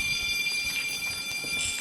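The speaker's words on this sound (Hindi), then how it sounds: "अब होगा ना एक्टिवेट, बैंक का अलार्म बच गया है" A bank alarm rings steadily in a video game heist, a continuous high-pitched tone layered with electronic buzzing over low background game noise, with no pauses.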